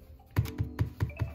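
Keys clack in five distinct, evenly spaced strokes on a Roccat Vulcan Pro gaming keyboard with hard, smooth plastic, each press a sharp, close, fairly loud tap with no talking.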